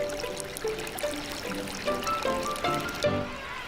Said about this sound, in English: Countless small streams are fed by rain and glaciers.